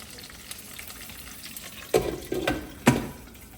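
Green chilies followed by dried red chilies dropped into hot oil for a Telugu beerakaya pachadi, giving three sharp sizzling bursts around a steady low crackle of frying, close and alone without talk.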